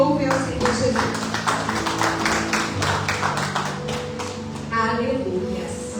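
A church congregation claps in a quick, regular rhythm, the hand claps mixed with music and voices, fairly loud and close throughout.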